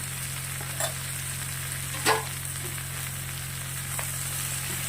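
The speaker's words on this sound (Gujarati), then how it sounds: "મસાલા ભેગું શેકી લેવાનું છે બે મિનિટ સુધી ટામેટા નાખ્યા પછી મસાલા કરવાના બે મિનિટ જેવું શેકી લેશું" Spices and tomatoes roast in a hot pan for a banana kofta curry, giving a steady close sizzle with a few brief stirring scrapes and clinks, and no talking.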